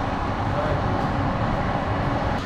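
Underground metro train coaches rushing past at speed, a loud, steady roar and rumble that fills the whole stretch without letup.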